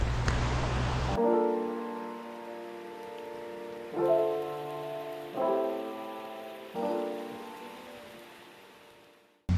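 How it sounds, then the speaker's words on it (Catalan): Steady heavy rain hisses throughout, heard from shelter under a tree on Ometepe island, with sustained tonal chords swelling in over it several times. "s'ha posat a ploure fort"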